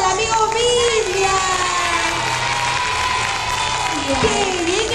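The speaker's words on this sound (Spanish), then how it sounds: "un fuerte aplauso para el amigo Biblia." A children's audience at an anniversary celebration claps and cheers loudly and continuously, with shrill young voices shouting over the dense applause and a raised voice calling through it.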